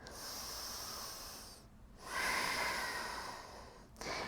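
Slow, audible breaths during a power yoga flow: a long breathy exhale, a pause, then a fuller inhale swelling up close, with a quick breath at the end.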